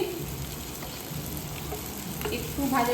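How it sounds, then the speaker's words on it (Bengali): Tomatoes added to onions already frying in hot oil give a steady, close sizzle throughout, with brief louder spits and crackles near the end and no talking. "এবার টমেটোগুলো দিয়ে দিয়েছি"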